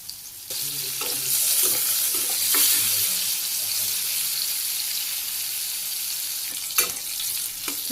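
Vegetables fry in soybean oil in a village kitchen, a close, continuous sizzling hiss with a few stirring clatters and knocks on the pan, and no voices over it.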